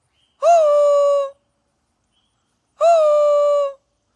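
A pet cockatiel gives two loud, close, sustained whistled calls, each about a second long with a rising start, separated by a silent gap of roughly a second and a half.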